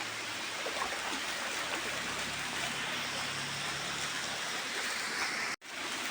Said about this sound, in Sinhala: මේ ඇල්ල